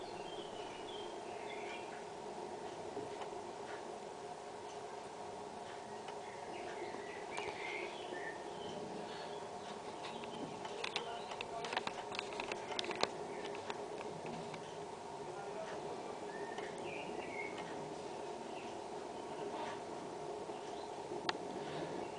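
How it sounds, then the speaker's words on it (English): Birds chirping inside an artist's studio in Chendies, France: faint, scattered tweets and calls come and go over a steady low room hum, with no talking. "it's a beautiful thing to have birds here"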